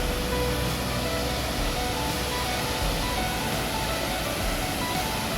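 Tad Khu waterfall in Pakxong, Champasak, rushing as a dense, steady roar of falling water that fills the air evenly and loudly, with no voices over it.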